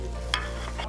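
Hot pan sizzling in a professional kitchen during a culinary competition, a steady close frying hiss with a brief scrape or stir, no talking.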